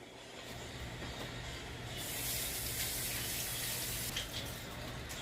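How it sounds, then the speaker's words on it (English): Hands sticky with buttermilk biscuit dough being washed under a kitchen tap, water running steadily, then splashing louder as the hands move into the stream, with brief bursts of spray. "Now I'm going to wash my hands."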